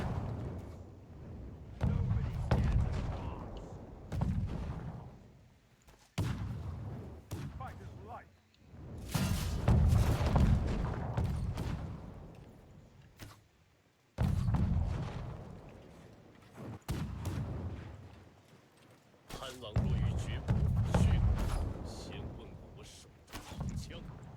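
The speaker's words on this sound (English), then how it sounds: "artillery is being placed down right now, looking to bombard towards this small pocket here" Artillery bombardment in the Conqueror's Blade video game: repeated heavy booms and rumbling impacts arrive in bursts across the clip, each swelling and decaying, over a busy battlefield din with a voice talking throughout.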